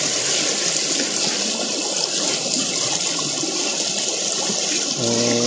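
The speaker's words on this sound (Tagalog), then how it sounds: "yung ilog namin dito" A farm river rushes past a spillway beside a broken bridge, making a loud, steady broadband wash of flowing water that continues without a break.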